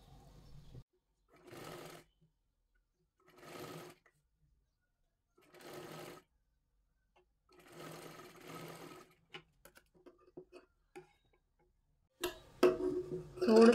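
Short bursts of a sewing machine stitching round a blouse neckline, about five runs separated by pauses, fairly quiet, with a few handling clicks and a louder clatter at the end.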